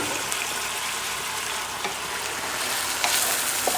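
Wine cooking down with browned ground meat in a pan for a meat Bolognese, an even close sizzle and bubble throughout, with a few faint stirring clicks near the end.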